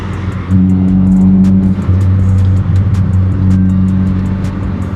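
A BMW E30 drives along a road at night, its engine humming steadily and loudly from inside the cabin, with a brief lift in revs and a constant low drone.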